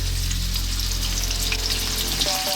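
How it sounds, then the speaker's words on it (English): Pork belly fries in sunflower oil with a steady, dense sizzle and crackle, loud and close throughout, with no voices over it. "we're gonna get all of this pork in, and we're gonna fry it for about 5 to 6 minutes"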